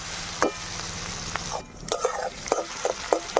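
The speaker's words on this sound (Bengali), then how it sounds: "পেঁয়াজটাকে লাল করে ভেজে নেবো" Onions frying in a pan for mango chicken curry give a soft steady sizzle, broken by a string of scraping, clattering strokes as a spoon stirs them.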